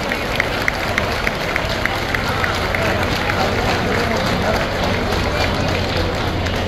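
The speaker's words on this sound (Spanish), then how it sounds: "un aplauso al señor gobernador por ese apoyo que nos ha brindado" Crowd at a festival in Cempoala applauds the governor, a steady wash of dense clapping and crowd noise filling the whole stretch, with chatter mixed underneath.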